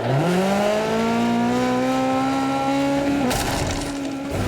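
A Mini Cooper in the racing game Jected Rivals, its engine revving steadily up through the gears with a rising, sustained drone, then a sudden rough burst near the end as the pitch drops.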